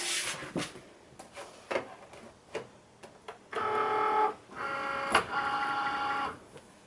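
A Cricut Maker cutting machine pulls in a mat holding an A4 sticker sheet, giving soft clicks and clunks followed by two sustained whirring motor runs, close and fairly quiet, with no voices.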